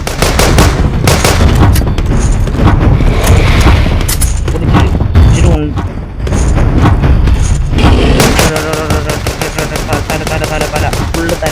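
Rapid bursts of gunfire from a zombie shooter video game crackle loudly and almost continuously, dense automatic volleys with heavy booming impacts and a brief lull near the middle.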